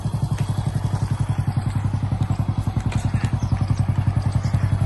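A farm tractor engine runs steadily close by, making a rapid, even, low thumping chug that continues throughout with no talking.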